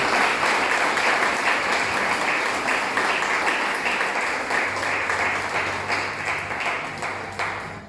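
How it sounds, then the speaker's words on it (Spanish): Loud applause rises from a church congregation, with sustained clapping from many people at close range and a faint low tone entering partway through. "Y por eso debe el aplauso de Dios y gracias"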